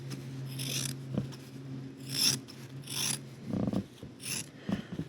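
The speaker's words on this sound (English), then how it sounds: "we're going to trim out the actual neckline of the dress right here a little bit so it's not too bulky" Scissors snip through the fabric at a dress neckline to trim the seam allowance, giving several separate close crisp cuts with rasping blade noise and soft fabric rubs in between, set against a faint steady hum.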